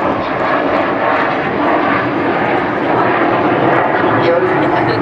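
Avro Vulcan XH558 jet bomber flying a display at the Farnborough airshow, a loud, steady broadband engine roar that fills the whole stretch without breaks, with a commentator's voice running underneath.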